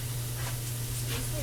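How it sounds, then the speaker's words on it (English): Liquid hits a hot pan of ham for a ham and cheesy potato soup, giving a steady, close hiss of steam over a low hum. "Deglaze some of that hamminess there."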